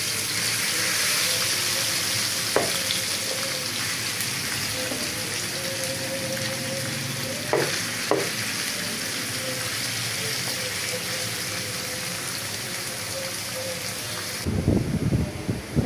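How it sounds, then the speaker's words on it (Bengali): Marinated fish fries in hot oil with a steady hiss like rain, punctuated by a few sharp clinks of a utensil, ending with soft knocking. "তেল গরম হয়ে গেছে, আমি যে মাছটা মেখে রেখেছিলাম ওটা এখন দিয়ে দেবো"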